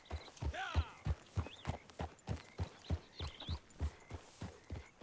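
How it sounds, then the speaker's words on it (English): Horse hooves clopping at a steady walking pace through puddles in the Ghost of 1898 video game, each step a distinct near, wet thud repeating about every half second. "The horse does the same thing when he walks through puddles"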